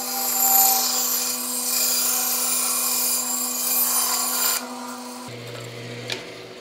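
A bandsaw cuts freehand through a wooden spacer block, giving a steady buzzing rasp with a constant motor hum for several seconds. Toward the end the blade comes free of the wood and the motor's pitch drops.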